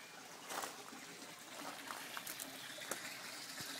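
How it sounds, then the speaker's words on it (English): Water trickles and gurgles steadily as an aquaponic gravel grow bed drains, a soft continuous flow with small splashes, heard alone. "There's one of the grain beds draining, one of the gravel beds draining."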